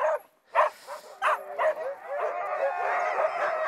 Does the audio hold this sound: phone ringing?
no